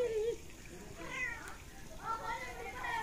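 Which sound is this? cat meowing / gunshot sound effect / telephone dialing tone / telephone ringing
cat meowing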